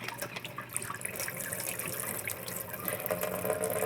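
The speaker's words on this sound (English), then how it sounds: "what I'm going to do is strain the water first" Water from sprouted grain pours steadily through a strainer, a continuous close splashing and trickling with no talk.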